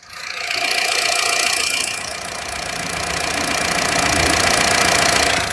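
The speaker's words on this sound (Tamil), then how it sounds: "அந்த இன்ஜின் நாய்ஸ் கொஞ்சம் கூட மாறவே இல்லை" A Honda car engine idles with the microphone held close, giving a steady, loud mechanical hum with a light ticking rattle that holds evenly throughout.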